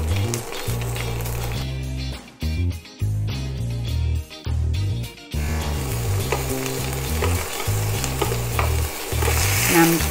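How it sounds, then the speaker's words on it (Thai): Egg is stir-fried with bean sprouts and garlic chives in a wok for Teochew-style fried radish cake. Loud, rapid spatula scrapes and clanks come in bursts over a continuous sizzle, with short pauses. "พอไข่เริ่มสุกนะเราก็จะใส่ถั่วงอก ใส่กุ้ยช่าย"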